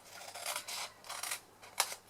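Scissors cutting fabric pieces for a pocket tissue holder: a few soft, close snips in uneven bursts, ending with one sharper crisp cut against a quiet room.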